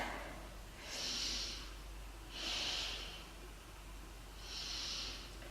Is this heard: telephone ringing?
no